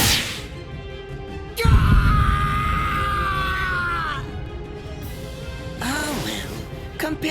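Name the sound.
man screaming in pain in Bleach Rebirth of Souls video game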